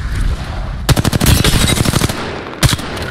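Automatic weapon fire in the video game Apex Legends crackles in rapid close bursts, a long rattling volley of shots followed by a brief pause and a shorter second burst, loud and alone.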